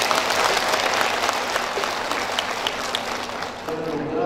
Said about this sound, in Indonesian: tolong tepuk tangan yang keras untuk Bank Mandiri.